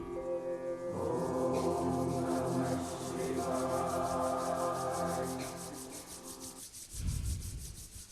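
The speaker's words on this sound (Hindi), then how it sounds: "अपने दोनों हाथों को रब कीजिए।" Two palms rubbed briskly together in a quiet room, a steady close dry friction hiss lasting several seconds before a soft thump as the hands settle.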